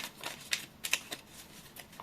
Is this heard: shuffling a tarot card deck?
yes